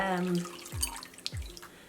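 A Liz Earle cleansing cloth dunked into hot water at a sink gives close splashing and sloshing with a couple of drips, after a brief run of tap water.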